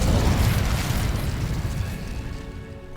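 Incendio fire spell cast in Hogwarts Legacy, a loud whooshing burst of flame with a deep rumble that swells at once and then fades away over a few seconds.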